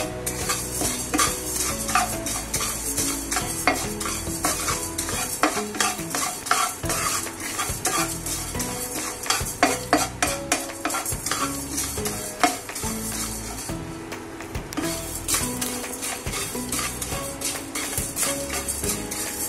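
Spices and grains dry-roasting in a pan for thalipeeth bhajni flour, stirred constantly with a utensil scraping and rattling against the metal, a busy close clatter over a faint crackle.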